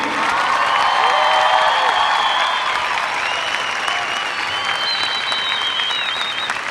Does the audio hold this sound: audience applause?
yes